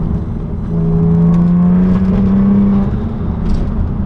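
A Saab 9-3 Turbo X engine with aftermarket Krona downpipe and midpipe drones steadily with a deep, raspy exhaust note that swells slightly as it revs, loud and close with no talking.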